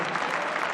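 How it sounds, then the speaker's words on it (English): An arena crowd at Arena Leipzig claps for Iran's indoor hockey team, a brief dense wash of applause heard from within the hall. "they're lapping up the applause out there in the Arena Leipzig"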